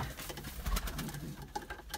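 Pigeons are let out of a loft in a bunch, giving a quick flurry of close wing claps and flutters along with soft cooing.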